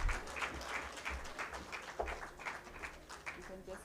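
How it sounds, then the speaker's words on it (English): An audience at a women's investment breakfast event claps again in a steady patter of applause, with voices talking over it. "So clap again."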